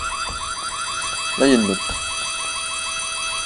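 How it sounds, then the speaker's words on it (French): An alarm siren sounds inside the machine room of a school in the video game White Day, a steady rapid repeating electronic wail that runs continuously under a man's brief speech. "les alarmes doivent être éteintes à l'aide du tableau de droite"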